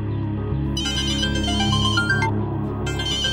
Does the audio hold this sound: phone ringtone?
yes